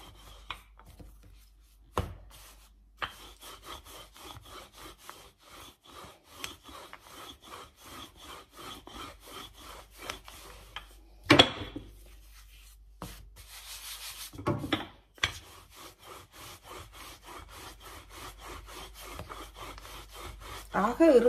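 A rolling pin rolls out puff pastry dough with repeated rough, rubbing back-and-forth strokes in a steady rhythm, broken by a few brief pauses and louder knocks, close and moderately loud.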